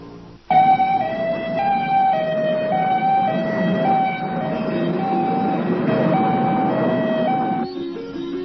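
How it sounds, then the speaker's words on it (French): An ambulance siren wails loudly in a two-tone pattern, starting abruptly and holding steady before cutting off near the end. "Une ambulance quitte l'hôpital avec un Américain à bord."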